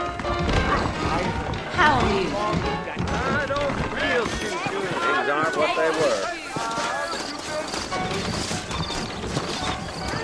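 Horses gallop with quick, uneven hoofbeats in the Western video game Red Dead Redemption, mixed under game music and occasional voices, with clattering impacts scattered through.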